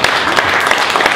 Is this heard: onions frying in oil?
no